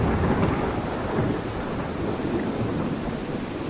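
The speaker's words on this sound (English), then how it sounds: "I know Thunder is supposed to be loud" Thunder from a storm in the video game Rain World rolls in a loud, continuous rumble layered over a steady hiss of rain, with no voices.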